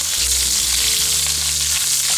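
Green beans that were parboiled are stir-fried with ginger in hot oil in a pan, giving a loud, steady sizzle with faint stirring scrapes throughout.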